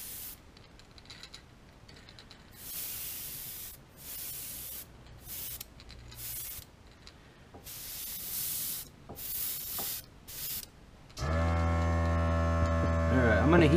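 Airbrush spray hisses in short, uneven bursts while a crankbait is painted, then an airbrush compressor starts up loud and steady with a droning hum for the last couple of seconds.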